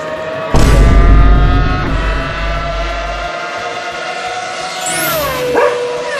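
Dog sound in an animated fight scene: a loud burst with heavy low rumble, then long drawn-out howling tones that waver and bend toward the end, close and dominant.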